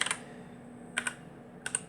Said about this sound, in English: keyboard working on a standard Coco2 computer